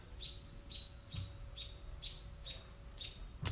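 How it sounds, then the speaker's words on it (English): A bird repeats a short, high chirp roughly every half second, about eight calls in a row, clear and fairly close over a faint low rumble, with no talking. "the birds are saying yes"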